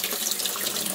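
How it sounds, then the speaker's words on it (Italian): A hot water tap runs into a sink to thaw frozen food, a close, steady hiss of flowing water over a short moment with no talk. "quindi ora lo scongelo sotto l'acqua calda e la riscaldo"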